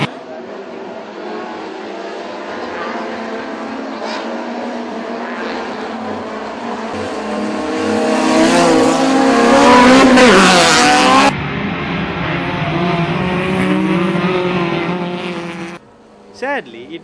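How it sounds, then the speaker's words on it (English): Race cars, including an all-wheel-drive Honda Civic, battle on a circuit, their engines droning steadily and swelling into a loud passing roar midway before easing off, with a commentator talking over the racket throughout. "Kaushalya Samarasinghe and Shafraz Junaid, were locked in a very serious battle for a number of laps."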